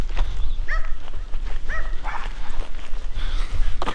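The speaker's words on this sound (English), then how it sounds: "Also appears to be a lot of doggos here." Several dogs bark and yip in short bursts near an abandoned, dilapidated roadside house in a small New Mexico town, the calls scattered over steady outdoor background noise.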